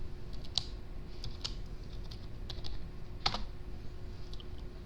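Folder names are typed on a computer keyboard during a Blender tutorial, producing sparse, crisp key clicks spread irregularly across the clip over a low steady hum.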